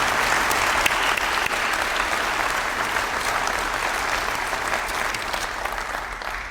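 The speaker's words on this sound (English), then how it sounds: "Let's give them another big, big round of applause." Sustained audience applause at an event announcing a battery maker's new plant in Edgecombe County, a dense, steady wash of clapping from a large crowd that holds evenly throughout and eases only slightly at the end.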